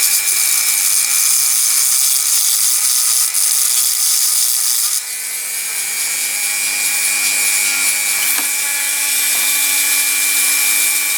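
Grinding down a part from a Dinky Supertoys 20-ton lorry-mounted Coles crane during a restoration, a close, loud, continuous abrasive hiss with a steady whine that dips briefly mid-way and then carries on.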